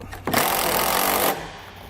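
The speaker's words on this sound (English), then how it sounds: "we'll take some self-tapping screws. Go ahead and attach it to the two rods we have coming off our base plate." A power driver drives a self-tapping screw into a rod on a towed-vehicle base plate, giving one loud, close, steady whirring burst of about a second before stopping.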